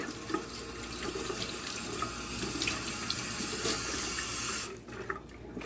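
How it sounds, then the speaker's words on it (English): Water runs steadily from a sink tap during handwashing in a home kitchen, a continuous close hiss that stops abruptly near the end. "Now I'm going to wash my hands before I touch this food."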